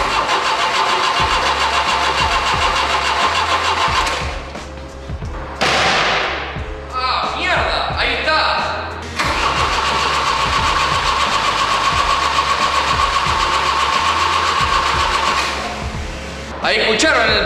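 A Volvo 760 2.3T turbo engine is cranked with the starter, the motor churning and trying to catch in long loud bursts with brief pauses, voices talking in between.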